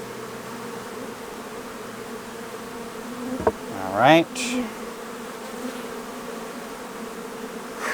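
Honeybees buzz around a honeycomb frame being shaken during a honey harvest, a steady droning hum with one louder buzz sweeping close by midway; a voice speaks briefly.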